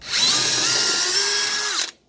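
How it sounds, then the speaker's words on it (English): A two-speed power drill bores into a block in one steady high whine lasting under two seconds, its pitch dipping slightly before it cuts off abruptly. "I'm gonna make sure my clutch isn't on any of these numbers, it's on the drill setting"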